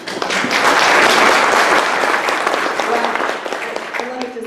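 An audience at a Beaches Watch community meeting applauds the recognition of Atlantic Beach mayor Ellen Glasser, with dense clapping that swells loudly and then thins out as a voice begins speaking.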